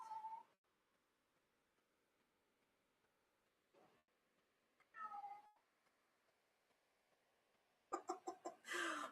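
A cat meows several times indoors, a single call at the start followed by louder, more insistent bursts of meowing toward the end, with quiet pauses between them and no talking.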